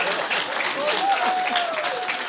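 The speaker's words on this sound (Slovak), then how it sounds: "Potlesk obrovský." An audience at a gala evening breaks into big, dense applause, sustained clapping from a large crowd, with a voice briefly carrying over it.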